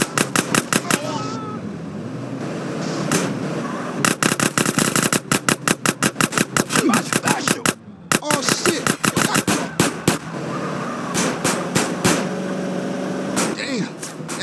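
Rapid bursts of automatic gunfire ring out in GTA San Andreas during a Grove Street gang shootout, loud and close, with dense strings of shots broken by brief pauses and a voice speaking between volleys.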